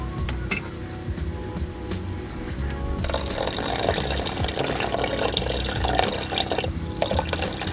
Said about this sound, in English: Now we're going to use the scales to measure out 300 grams of water.